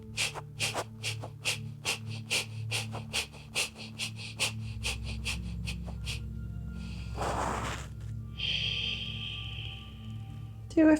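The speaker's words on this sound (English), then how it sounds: "20 breaths of fire." Breath of fire yoga breathing: about twenty rapid, evenly spaced forceful exhalations through the nose in a steady pulsing rhythm, close and clear, followed by a longer drawn breath and a sustained exhale.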